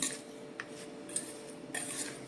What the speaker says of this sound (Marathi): आता ही फोडणी आपण या खाचकोईच्या लोणच्यावर घालायची आणि हे सुद्धा व्यवस्थित कालवून घ्यायचं